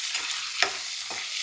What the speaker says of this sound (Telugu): ఇవి కొంచెం దోరగా వేగాలి